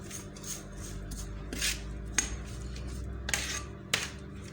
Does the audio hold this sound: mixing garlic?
yes